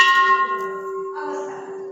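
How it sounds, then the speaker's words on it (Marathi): An ancient bell at an old stone temple rings once, a loud clear metallic strike with steady sustained overtones that decays smoothly over about two seconds. "अशी पुरातन घंटा"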